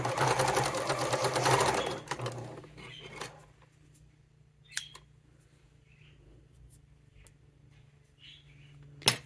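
A sewing machine stitches fabric wallet pieces for about two seconds in a fast, steady whir, then stops, followed by quiet handling clicks and rustles.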